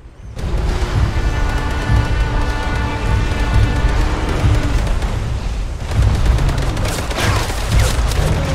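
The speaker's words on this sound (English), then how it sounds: "Got me with the double machine guns really fast." Double machine guns fire in the video game DinoBusters, a loud dense fusillade of rapid shots with booming impacts running almost continuously, rising again in heavy bursts near the end.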